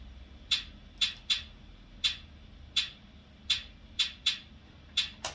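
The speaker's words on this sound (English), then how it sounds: "There is a hi-hat line that I added though, that sounds like this." A programmed hi-hat line from a hip-hop beat plays on its own, with crisp, bright ticks in an uneven, syncopated pattern of about ten hits, some close together in pairs and triplets.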